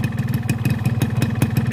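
Two-stroke motorcycle engine with an Ultraline racing exhaust idling while still cold, a loud, close, rapid uneven burbling pulse with crackly popping, steady throughout with no talk.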